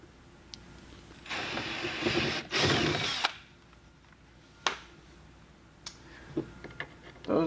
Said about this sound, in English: now we're just going to go ahead and match drill all of our other holes.